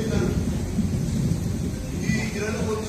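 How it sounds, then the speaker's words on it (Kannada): Staged thunderstorm effect with rain and rumbling thunder for a folk play performance, a dense low roar that holds steady and loud throughout. "ಮಳೆ ಭಯಂಕರವಾಗಿ ಬಿತ್ತು, ಮಿಂಚು ಭಯಂಕರವಾಗಿ ಮಿಂಚಿತು"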